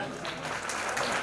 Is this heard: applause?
yes